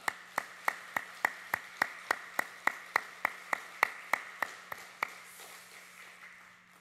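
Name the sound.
church congregation applauding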